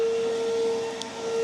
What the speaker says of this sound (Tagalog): Vacuum lang.